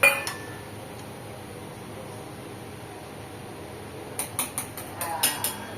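A metal or ceramic plate for an egg dish is picked up and handled in a home kitchen, giving a short run of close, light clinks near the end after mostly quiet room noise.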